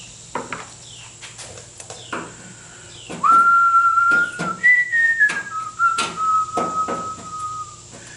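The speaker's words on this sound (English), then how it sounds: "YouTube will probably make me freaking stop whistling" A man whistles a wavering tune in a workshop during door skin removal on a 1974 MGB, the clear melodic notes sitting over sharp metallic taps and clatter.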